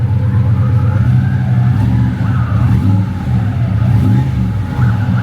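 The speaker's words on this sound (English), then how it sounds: "Bit of cheeky rev while I'm here, eh?" A muscle car engine, seen while shopping for one in Adelaide, idles with a loud, deep close rumble and swells in a few throaty revs, the tone rising and falling over several seconds without talking.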